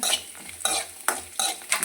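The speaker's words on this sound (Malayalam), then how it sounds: "ഇത് നമുക്ക് കുറച്ച് നെയ്യിലൊന്ന് മൂപ്പിച്ചെടുക്കാം" Coconut pieces fry in ghee while a spoon stirs them, giving about five rhythmic scraping strokes over a soft, continuous crackle, close and clear with no talking.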